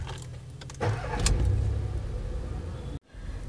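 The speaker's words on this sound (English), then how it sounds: "Turn on the engine." A Volkswagen Polo engine cranks and catches near the start, then settles into a steady idle hum before a sudden cut.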